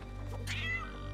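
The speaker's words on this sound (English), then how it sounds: "Your cat's meowing." A cat in the Sea of Thieves video game lets out one clear, drawn-out meow over a low steady hum, fairly faint and alone without speech.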